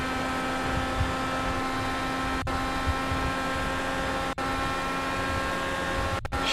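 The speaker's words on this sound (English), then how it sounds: "Shut up, you bloody noisy engine." A race car engine in the iRacing sim game drones steadily and loudly throughout, with a constant tonal hum and a few brief dropouts.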